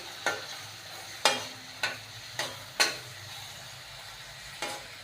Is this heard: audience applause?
no